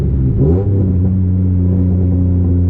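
Old Ford Taurus engine revving hard on nitrous, a loud, close, sustained roar that climbs in pitch at first and then holds steady at high revs, with no talk.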